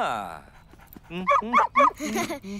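Cartoon dog barking and whimpering in the park scene of the Malay-dubbed Bing episode, short yips mixed with a drawn-out whine, heard under and between lively voices speaking nearby.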